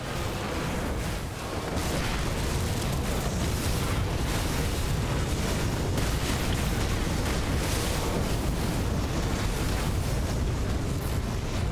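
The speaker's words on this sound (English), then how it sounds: "So many explosions. So much fire." A continuous roaring rumble of explosions and fire in the video game Grim Dawn, dense and loud throughout with no pauses, like a sustained barrage.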